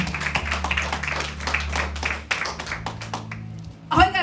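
A church congregation claps in praise, a run of distinct, fairly quick handclaps in loose rhythm that thins out near the end, followed by a voice starting to speak.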